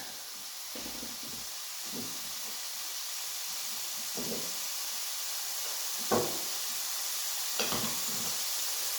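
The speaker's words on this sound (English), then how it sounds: "So now then we're going to let the leeks saute and soften." Leeks sautéing in a pan with a knob of butter, a soft continuous sizzle and hiss with occasional stirring scrapes and small pops, close but fairly quiet, no voices.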